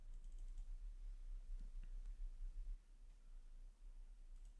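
Fingers tapping out short words on a computer keyboard while building a restaurant website, a few soft, quiet keystrokes over a steady low hum with no talking.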